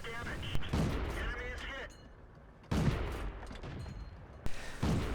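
Tank cannon fire in World of Tanks, a T-50 light tank on the Steppes map: two heavy bursts of gunfire a few seconds apart, with a short rumble after each, mixed with continuous game noise and someone talking.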